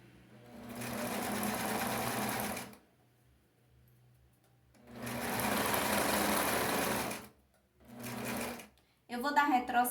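A domestic sewing machine stitches a skirt seam through interfaced fabric in two long runs with a pause between, then a short burst, followed by brief handling noise, all close and steady.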